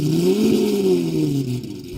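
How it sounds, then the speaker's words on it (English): A Lamborghini Aventador's engine cold-starts and rises in pitch, then settles slightly into a loud, rumbling idle, close and unaccompanied. "cold start each of these Aventadors, starting with the original one"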